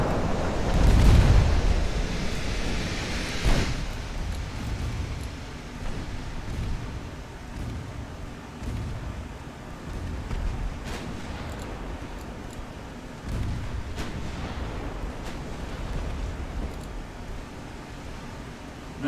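Torpedo salvo explosions in the naval battle game Ultimate Admiral: Dreadnoughts, with a heavy rumbling blast near the start, then a long wash of noisy booming and splashing that rises and falls across the scene.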